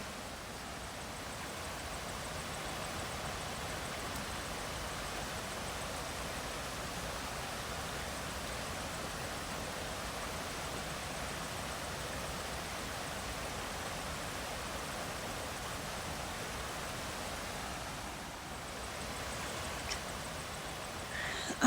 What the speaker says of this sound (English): when I walk close to the river with its fish ladder and waterfall